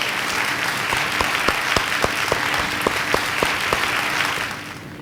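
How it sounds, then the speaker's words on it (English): Steady applause from a large graduation crowd at a high school ceremony, a continuous wash of clapping with a few sharper individual claps standing out, fading slightly toward the end. "Please give them a round of applause for their service to our nation."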